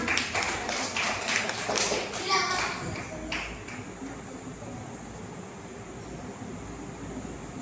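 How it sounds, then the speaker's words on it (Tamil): A Sunday class applauds a volunteer with a brief burst of clapping in the first few seconds, then the room quiets to low background noise. "அவங்களுக்கு ஒரு கை தட்டு கொடுத்துடலாம்."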